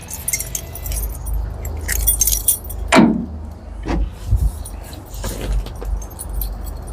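Keys jingle and clink at the ignition of a 1970 GMC 2500 3/4-ton truck, several loose metallic rattles and a sharper clack near the middle, close by with faint background murmur.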